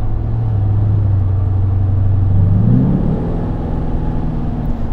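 A V8-engined Land Rover Defender drives steadily, its engine a close, continuous low rumble that swells as it accelerates, then settles into a higher, even drone.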